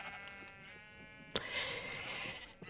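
Sheep bleats from pink sheep in the Minecraft video game, found in a lush swamp; a few short, fairly quiet bleats come and go over a low background, with one sharp burst near the middle.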